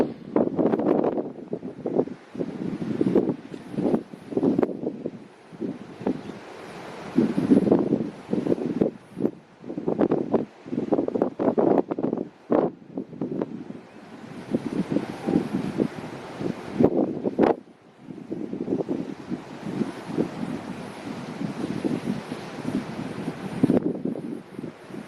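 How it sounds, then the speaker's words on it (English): Steady wind buffeting the microphone at SpaceX Starbase, Texas, gusting unevenly for the whole stretch with low rumbling bursts and a soft rush, no voices. "Yeah, it is windy. It is windy."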